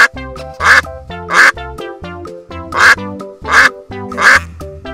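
A duck quacks loudly and repeatedly in short bursts, with a plinking musical backing and no talking.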